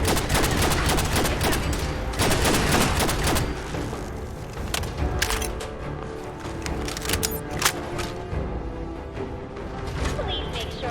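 Rapid bursts of gunfire and booms from the game Fallout 4 Nuka World, fired at robots in a loud firefight that starts dense and turns into scattered shots.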